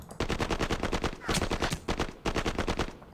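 Rapid bursts of gunfire from units in a modern Middle East 1967 wargame video game, three dense rattling volleys in quick succession, loud and close with no talk over them.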